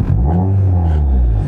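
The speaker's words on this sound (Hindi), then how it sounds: "एक बार रेव करके दिखा देता" A Honda Civic with a full stainless steel exhaust system revs once, a loud deep rumbling rise and hold of the engine note, close and alone.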